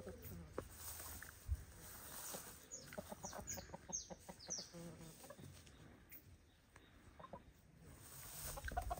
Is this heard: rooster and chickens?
yes